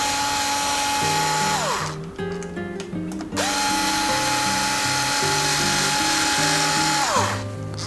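An electric screwdriver drives fine pitch threads in a high, whining burst that spins up and winds down twice, with short mechanical clicks between runs, close and clear.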